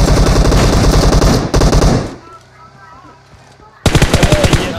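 Loud bursts of rapid automatic fire from a PUBG match, a dense rattle that breaks off into a quieter pause before another close burst of shots.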